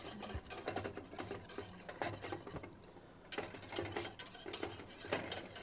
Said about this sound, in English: I'm going to whisk it so there's no lumps.